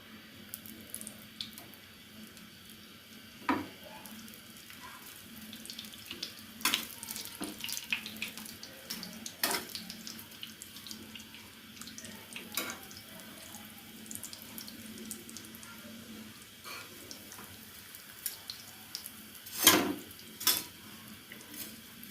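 Bread slices frying in a pan for shahi tukda: a steady, quiet hiss of sizzling oil throughout, with occasional soft pops and utensil taps rising briefly above it.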